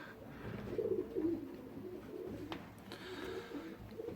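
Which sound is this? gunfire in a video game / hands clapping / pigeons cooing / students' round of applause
pigeons cooing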